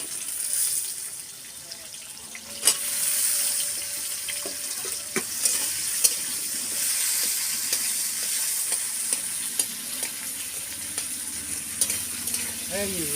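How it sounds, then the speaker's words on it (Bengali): Round-sliced small potatoes fry in hot oil with fenugreek, giving a steady, bright sizzle that holds throughout, broken by occasional clicks and scrapes of a spatula. "আলুটা এবারে তেলে দিয়ে দেবো"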